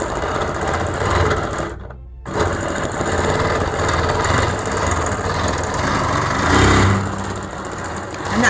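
A Bernina Q16 sewing machine free motion quilting at fast speed, its needle clattering in a dense, continuous rhythm with a brief pause midway, loud and close.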